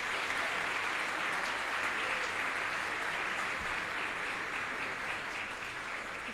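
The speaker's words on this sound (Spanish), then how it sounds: "Así ya te damos un fuerte aplauso." Audience applause at the opening of an education and technology congress in a conference hall, a steady, dense wash of many hands clapping throughout, moderately distant and even in level.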